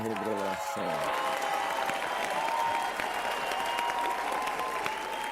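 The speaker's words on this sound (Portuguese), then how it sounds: "Ou vocês estão aplaudindo a minha revelação?" Applause from a church audience in Cape Town, South Africa, a dense and even clapping that holds steady after a brief voice at the start.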